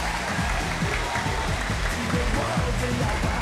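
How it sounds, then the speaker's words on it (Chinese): Audience clapping during a belly dance at a hospital Mid-Autumn Festival gathering, a moderate, continuous patter blended with music and voices that lasts throughout and swells slightly at the very end. "掌声不够热烈啦"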